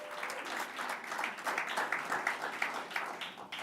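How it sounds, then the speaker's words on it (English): A group applauds at a trustees' retreat, steady clapping from many hands with irregular swells throughout, fairly close and moderately loud, no voices over it. "Let's give everybody a big round of applause."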